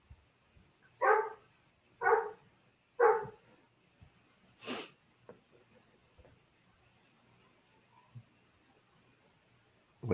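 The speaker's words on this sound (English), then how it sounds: "I hear Wolfie barking." Three evenly spaced barks from a dog sound at moderate distance, followed by a fainter fourth bark and a quiet stretch with small indoor noises.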